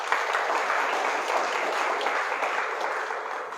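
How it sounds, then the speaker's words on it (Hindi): An audience at a direct-selling meeting claps together in a dense, steady burst of applause that holds at an even level for several seconds, with no speech over it. "सबके लिए ताली बजा दो एक बार।"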